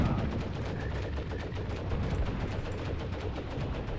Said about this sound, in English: He's got that Luger out, just firing at will.